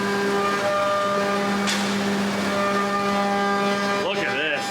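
A CNC machine milling heavy aluminum blanks for forged wheels, a loud steady hum with strong tonal whine that shifts and warbles as the machine winds down, with voices faintly present.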